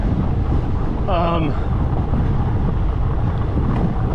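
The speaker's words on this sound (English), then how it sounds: "it's pretty windy up here, so I apologize about that" Loud, constant wind buffets the microphone high up outdoors on a fat-tire bike ride, with a deep rumbling roar throughout, while a voice speaks briefly underneath it.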